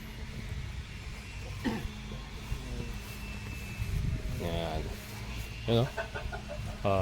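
A few chicken clucks come through over a steady low rumble, faint and scattered in an open outdoor free-range chicken area.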